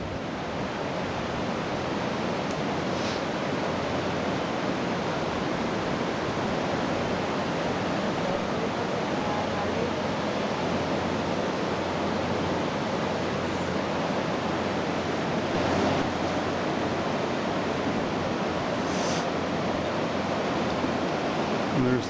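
The Elbow River in Calgary rushing in flood, a loud, constant broadband roar of fast water that holds steady throughout, with only brief faint disturbances on top.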